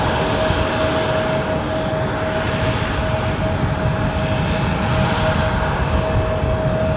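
An aircraft on the runway at Düsseldorf airport, a loud continuous jet engine roar with a steady whine, sustained and fairly near throughout.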